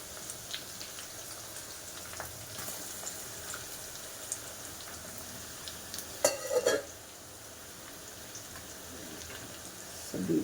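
Beetroot frying in a pan, a soft continuous crackling sizzle with scattered pops and a brief louder clatter of stirring midway, fairly quiet and close.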